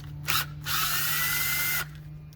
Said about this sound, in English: Grab yourself a Phillips screwdriver and just carefully,